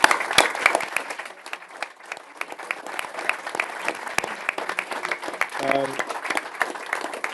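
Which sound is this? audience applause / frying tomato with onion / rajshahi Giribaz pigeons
audience applause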